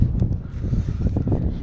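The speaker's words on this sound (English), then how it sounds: "It's probably getting too windy here" Strong gusts buffet the microphone outdoors, a continuous low rumbling roar of wind noise with rustling, steady and loud throughout.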